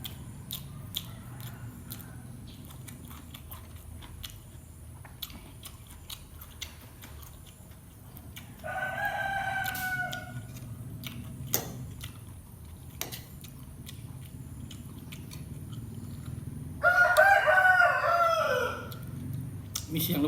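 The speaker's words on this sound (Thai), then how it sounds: "มีเสียงรบกวนหน่อย ไก่ตี" A rooster crows twice, once partway through and again near the end, at moderate distance over a quiet outdoor background with scattered small ticks, interrupting Thai speech.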